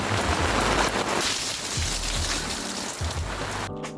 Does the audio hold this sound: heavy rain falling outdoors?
yes